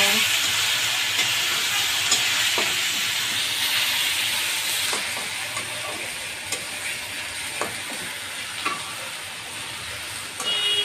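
Ginger garlic paste fries with onions in a pan for mutton kolija, giving a steady, bright sizzling hiss with scattered spoon clicks and scrapes, close and continuous.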